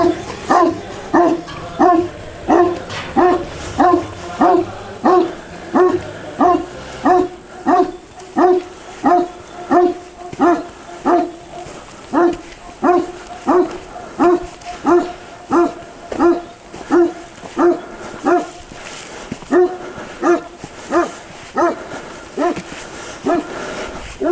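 Large village dogs in Yozgat, Turkey bark loudly and steadily, a long run of regular deep barks close by with occasional higher yips mixed in.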